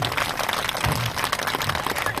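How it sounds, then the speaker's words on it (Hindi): A crowd at a Shri Ram Katha religious discourse gathering in Indore claps for the donors, producing a continuous, fairly loud wash of hand claps that holds steady throughout. "सभी दानदाताओं को एक बार जोरदार दिल से तालियां बजाइए।"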